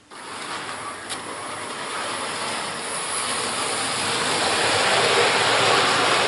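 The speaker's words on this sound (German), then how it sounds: "man konnte das gut sehen und auch gut hören, dass der Zug jetzt wirklich sehr gut durchgekommen ist" Trix Express H0 model train running through its bogies on a converted Loreley coach set, a continuous rushing rumble that swells slowly louder as it nears, with one brief click early on and no talk.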